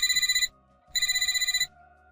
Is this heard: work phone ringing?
yes